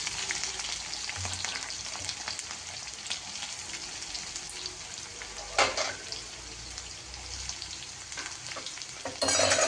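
Green chilies and then carrot dropped into hot oil give a steady, loud sizzle and frying hiss throughout, with brief stirring scrapes and a sharper crackle burst midway and at the end.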